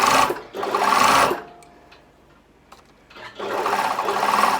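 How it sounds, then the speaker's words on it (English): A sewing machine stitches fabric up toward the shoulder edge of a garment in two loud, steady bursts, separated by a quieter pause with faint handling clicks. "Sewing right up to the shoulder edge."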